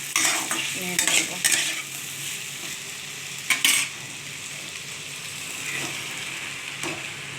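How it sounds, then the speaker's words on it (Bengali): Bottle gourd being stirred and fried in a pan, a steady close sizzle with repeated sharp spatula scrapes and clinks against the metal, no one speaking. "এই যে লাউটা, এটা একটু একটু করে দিয়ে দেবো, যেহেতু বেশি ভাজবো না লাউ"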